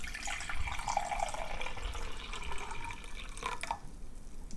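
Water runs from a tap into a measuring cup until it reaches one cup, a steady close trickle and splash that rises slightly in pitch as it fills, then cuts off near the end.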